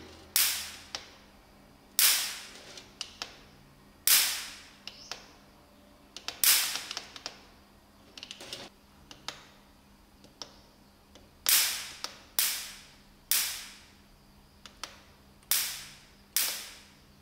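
A mosquito racket modified into a high-voltage lightning circuit, with its contacts bent close together, fires loud, sharp crackling sparks in irregular bursts, some single cracks and some rapid clusters, close by in a quiet room.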